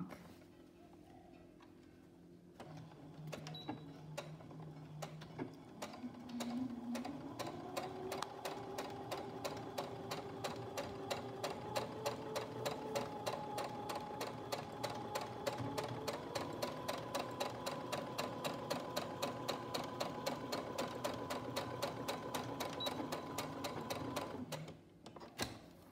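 A sewing machine runs steadily stitching fabric for a rhino mask, its needle ticking in a fast even rhythm for most of the stretch, after a quiet start with some handling.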